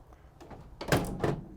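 Rear doors of a 2016 Vauxhall Vivaro van are swung shut, a few light knocks followed by two solid, close thuds of metal doors closing and latching.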